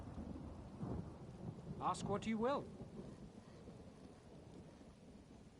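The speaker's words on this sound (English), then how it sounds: "I could do without this damnable rain. It's been storming since we arrived" Steady rain and a low rolling rumble of thunder fill a stormy scene in the video game Elder Scrolls Online, with a brief spoken line rising over the downpour midway.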